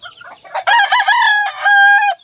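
A rooster crows loudly and close by at a house where chickens are kept, a single long, harmonically rich cock-a-doodle-doo after a few short lead-in notes, with no talking.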